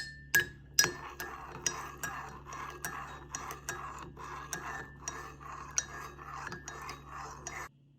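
A spoon clinks against a mug while mixing hot chocolate, a steady series of bright metallic taps repeating roughly every half second, close and clear with no talking.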